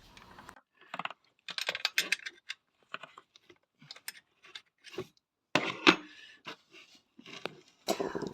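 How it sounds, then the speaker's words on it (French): A 10mm wrench works loose a camshaft sensor bolt on a Nissan 350Z, heard as close, irregular clicks and scraping metal taps in short bursts with quiet gaps between them. "un coup de clé 10 et on dévisse."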